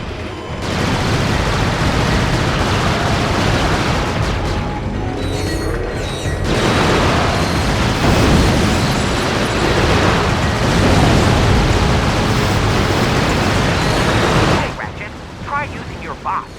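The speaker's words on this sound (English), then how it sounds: "The Landstalker is armed with dual-linked machine guns and a plasma mortar launcher." Landstalker vehicle in the Ratchet: Deadlocked game firing its dual-linked machine guns and plasma mortar launcher, a loud dense rattle of rapid fire with blasts and mechanical clatter, nearly continuous before cutting off near the end.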